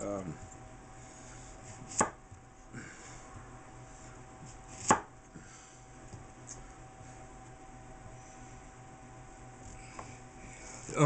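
A knife cutting zucchini on a board, with a few isolated soft chops and thuds spaced seconds apart over a quiet background hum.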